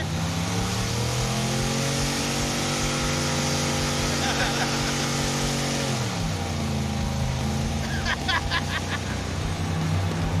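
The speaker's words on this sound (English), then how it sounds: "We had to go to great lengths to smoke the tires." Mazda fitted with a Maserati engine doing a tire-smoking burnout, the engine droning loud and steady, then the pitch changing partway through, with brief squeal-like bursts and voices underneath.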